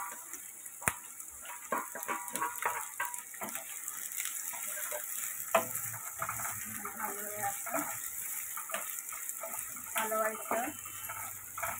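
Onion, green chili and curry leaves fry in a pan for an okra stir-fry, a quiet, uneven sizzle broken by sharp utensil clicks and clatters, with a voice speaking at times.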